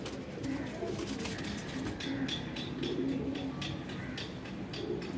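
Pigeons coo in soft repeated phrases against a steady loft background, with a voice faintly present underneath.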